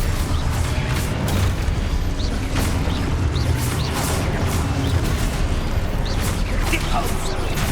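Spell-casting combat in Hogwarts Legacy, a dense continuous barrage of booming magical blasts and impacts, with a voice calling out spell names over the din throughout.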